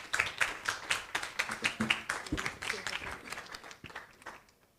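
A conference audience at Data Tamasha Africa 2026 claps for a discussion panel, with distinct, fairly sparse hand claps in an uneven rhythm that taper off and die away near the end.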